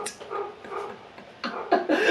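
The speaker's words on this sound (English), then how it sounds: "My dogs just decided to go crazy." Several dogs bark and yip in excited bursts at a house, sharp barks coming in clusters with short gaps, fairly close and loud, no talk over them.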